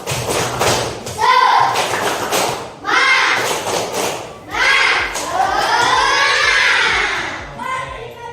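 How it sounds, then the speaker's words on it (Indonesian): Schoolchildren in a classroom perform a rhythmic spirit clap, with bursts of thudding claps alternating with chanted, shouted voices in a repeating pattern, close and loud. "Coba tepuk semangat."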